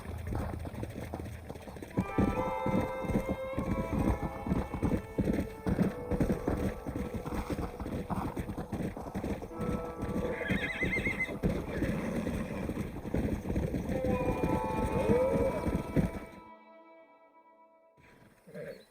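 Hooves pound rapidly in a dense galloping rhythm while horses neigh and whinny over it in the video game Red Dead Redemption on PS5, close and loud, before the sound cuts out near the end.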